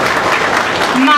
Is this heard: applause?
yes